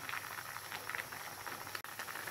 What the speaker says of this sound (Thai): น้ำแกงเดือดแล้วนะคะ